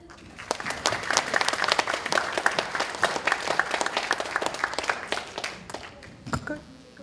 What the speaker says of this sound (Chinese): 现在让我们以最热烈的掌声欢迎陈文茜陈老师以及李宏